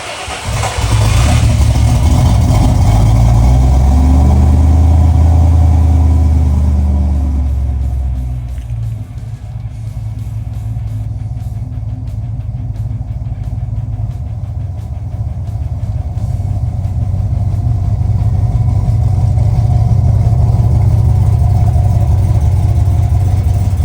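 A rebuilt Ford Falcon drag car engine runs close and loud, revving hard at first, then dropping to a rough, lumpy idle before swelling again, with a deep steady rumble throughout.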